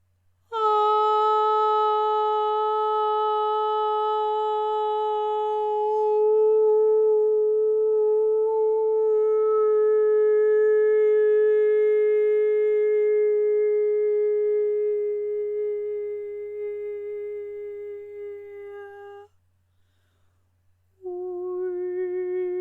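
A sustained, pure sung or toned note rich in overtones, held steadily for nearly twenty seconds, briefly stopping, then resuming.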